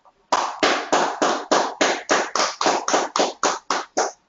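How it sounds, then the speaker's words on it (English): Rhythmic clapping for an online seminar quiz winner, about a dozen sharp, evenly spaced claps from a single close source, loud and isolated against silence. "can we have a huge round of applause for Anurag, please?"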